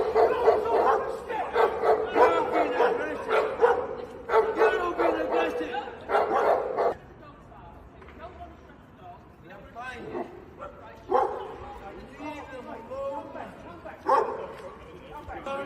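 Dogs bark in repeated loud bursts during a violent street incident caught on camera, fairly close, with shouting voices and screaming witnesses mixed in, then quieter stretches of agitated yelps and talk.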